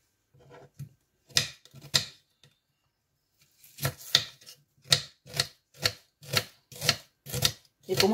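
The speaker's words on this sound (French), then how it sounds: "Je commence à découper tout, oignon, persil, ail." Onion, parsley and garlic are chopped by knife on a board in a series of sharp, close knocks. A few scattered cuts come first, then a steady run of evenly spaced strokes after a brief pause, with no talk.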